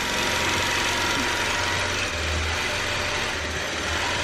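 A quilting machine stitches a quilt with a dense, steady mechanical hum and a faint rapid ticking, constant and close with no pauses.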